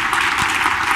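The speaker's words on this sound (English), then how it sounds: "Please give a warm round of applause to Dr. Monica White." An audience at a talk gives a brief, dense burst of steady applause, close and fairly loud, with no voices over it.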